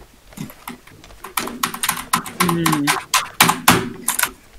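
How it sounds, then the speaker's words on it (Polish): Someone is clattering on a computer keyboard in an office prop-hunt match in Garry's Mod, a rapid, uneven burst of close key clicks heard under lively talking and laughter. "Co ty tam tak klepisz tą klawiaturę?"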